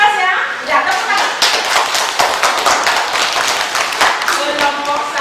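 Students in a classroom clapping hands together, a loud, dense burst of sharp claps with uneven rhythm lasting several seconds, close by, with some voices mixed in.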